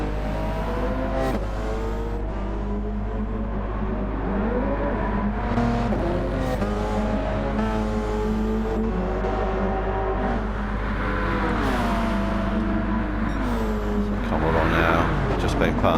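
Race car engine in Gran Turismo 7 at Monza, loud and close, revving with shifting pitch as the throttle eases off and builds again, continuous through the whole stretch.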